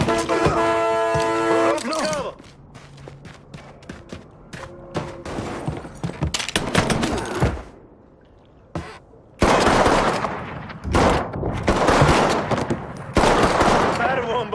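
Gunfire in the video game Mafia 3: repeated bursts of automatic fire and single shots crack out loudly across the scene, mixed with shouting voices and a car horn.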